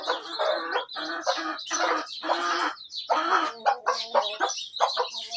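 Chickens and chicks on a small farm cluck, squawk and peep in close, busy bursts with short pauses between them, and no voices are heard.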